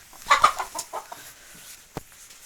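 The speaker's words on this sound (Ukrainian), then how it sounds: "Вирішив познімати нині курей." Chickens clucking near a farmyard as they are fed on a sunny day, a quick cluster of soft clucks and murmurs up close followed by a sharp single sound, no speech.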